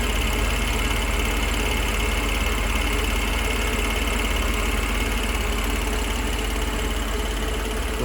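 A rebuilt car engine idles steadily, a smooth continuous low hum with faint mechanical vibration, close by and unbroken.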